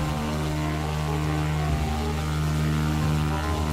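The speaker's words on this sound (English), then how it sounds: "this is of course the Cessna Skymaster" Cessna Skymaster engine drone in the Prepar3D flight simulator, a loud steady propeller hum with strong tonal harmonics that holds constant throughout, with no talking.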